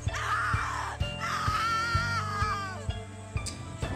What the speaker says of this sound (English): Your scream is like a poem without words.